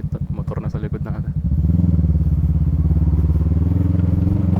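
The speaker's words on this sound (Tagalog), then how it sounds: "May motor na sa likod natin." Motorcycle engine approaching from behind on a mountain road in Casiguran, Aurora, a steady loud drone that swells close after brief clatter and a voice at the start.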